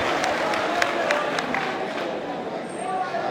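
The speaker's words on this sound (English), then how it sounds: "So let us give a round of applause for the Nigerian people." An audience at a polytechnic event applauds with a steady wash of clapping and a few sharper claps, backed by crowd murmur and a little chatter.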